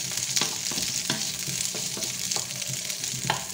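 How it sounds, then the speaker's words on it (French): Pre-cooked beef browns in a pan for boeuf bourguignon, giving a loud continuous sizzle close by, broken by regular scraping stirs about every half second. "Alors, je mets un peu ma viande à revenir"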